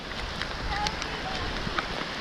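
Steady rain falls outdoors as a dense, even hiss with scattered droplet taps, while children and adults hurry through puddles nearby.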